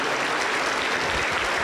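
A church congregation applauds during a worship and healing service, a dense, continuous roar of many hands clapping together at steady loudness without a break.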